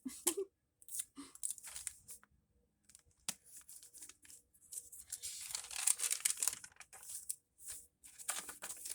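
Tape is torn and pressed on to mend a cheap Bible, with several short sharp ripping strips and crinkling handling noises, close and fairly quiet, separated by brief silent pauses.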